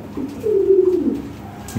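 A Lahori Sherazi pigeon gives a single low, drawn-out coo close by, with faint voices around it.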